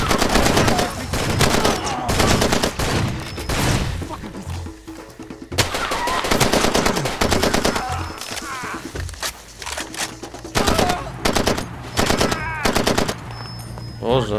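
Video game Far Cry 2 firefight: loud, sustained machine-gun bursts crackle again and again, with short lulls between volleys and heavy, dense shots throughout.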